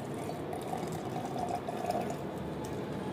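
Thick curd pours into a container for a mango protein lassi, giving a steady close wet pouring and splashing sound with faint drips, heard alone without talk.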